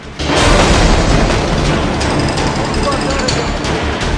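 A bomb blast in Afghanistan erupts with a sudden, very loud boom, then a dense roaring rumble and crackling debris that stays heavy for several seconds.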